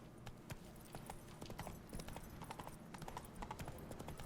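Roach, a horse in The Witcher 3, clip-clops along at a steady walk, quiet hoofbeats with a light even rhythm and no voices over them.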